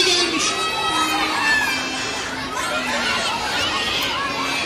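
A large crowd of spectators gathered for a concert at a children's theatre show, a continuous loud wash of chatter, shouting children and excited cheering, with nearby voices talking over it.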